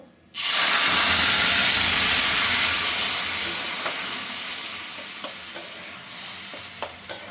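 Boiled tomatoes tipped into a hot tempering of dried chilli and whole cumin in a pan, setting off a loud, sudden sizzle and steady hiss that slowly fades, with a few light clinks of stirring near the end.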